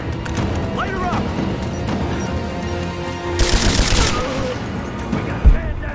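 Rapid gunfire from a Rise of the Tomb Raider firefight, a sustained fusillade of dense shots with a louder burst partway through, mixed with shouted in-game voices.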